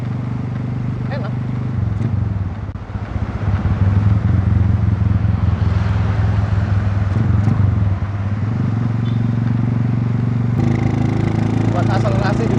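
Motorcycle ride on a wide-tired brat cafe-style bike with its engine bored up from 150 to 185 cc, a loud steady engine drone close by throughout, with some clatter.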